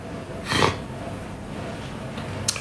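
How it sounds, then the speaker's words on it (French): A short, sharp sniff through the nose near the start, then quiet room tone, with another quick sniff near the end. "Désolé si je renifle à chaque fois, je sais que c'est désagréable"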